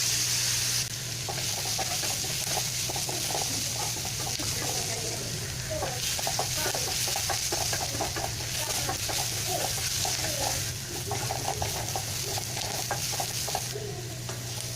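Sliced onions sauté in a pan for a Kerala-style cherupayar thoran, giving a steady close sizzle with scattered stirring scrapes and light clatter throughout, continuous and fairly loud.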